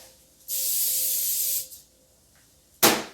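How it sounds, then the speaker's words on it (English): Coconut cooking oil spray hisses onto a hot grill pan for about a second, pauses, then gives a short sharp second burst, close and loud with no voices. "I'm going to use coconut spray oil"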